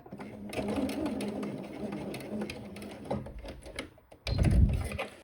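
A sewing machine stitches a skirt hem and finishes with a back-tack, whirring in a fast steady rattle, briefly pausing, then giving a short louder burst, with a person talking quietly over it.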